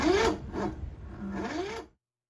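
Cub Cadet LTX1045 riding mower with a weak battery, struggling to start: three rough, grinding cranking bursts, close and fairly loud, that stop abruptly into silence.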